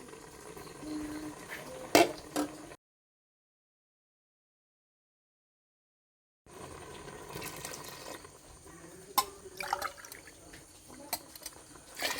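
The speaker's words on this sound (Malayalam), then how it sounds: "ഞാനൊരു രണ്ട് കപ്പ് വെള്ളം കൂടെ ഇതിൽ ചേർക്കുന്നുണ്ട്" Two cups of water pour into a pot of parippu payasam, an Onam lentil pudding, making a quiet close trickle and splash that stops for a few seconds of silence before resuming.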